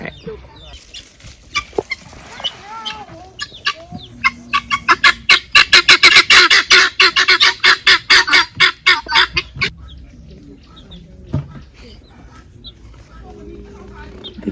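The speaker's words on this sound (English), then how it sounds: "The guinea fowl here are very friendly." Guinea fowl call in a rapid run of harsh, rhythmic cackles that builds to a loud burst and then fades, with people talking nearby before and after.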